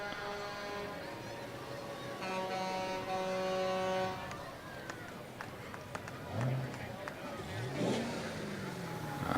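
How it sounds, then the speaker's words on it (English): A Chevy pickup truck engine revs up and holds a steady drone, then drops off and surges again in short bursts, fairly close and loud, at a parade. "Can't resist revving the engine."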